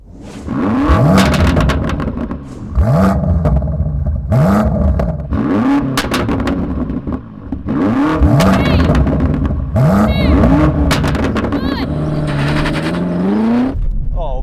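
A BMW M8 and an M5 launch in a drag race, engines roaring loud and close with repeated rising revs and sharp gear changes stacking up in quick succession, one car's note climbing alone near the end.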